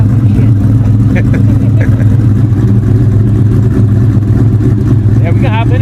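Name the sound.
2003 Mustang SVT Cobra engine revving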